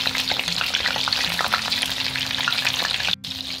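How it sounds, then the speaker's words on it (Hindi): Chicken lollipops deep-frying in hot oil give a steady, dense crackling sizzle throughout, with a brief dip in the sound near the end. "बहुत ही शानदार हमारे लॉलीपॉप फ्राई हो रहे हैं"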